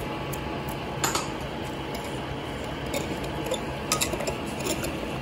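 Spices of black pepper, red chilli and salt stirred into pani puri water, with soft liquid swishing and a few light clinks of a spoon against a vessel, no talking.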